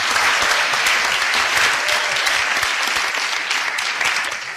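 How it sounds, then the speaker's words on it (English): Sustained audience applause fills a hall after a Montana at-large Republican primary debate, a dense, steady clapping from a sizable crowd that stays loud throughout and thins slightly at the end. "If we could have just one more hand of applause"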